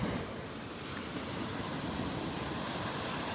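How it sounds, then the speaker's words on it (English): Churned-up ocean surf washes steadily onto Vanderbilt Beach in North Naples on a windy morning, a continuous broadband roar with wind buffeting the microphone and no voices. "the water is pretty churned up now. 2 days in a row with these waves."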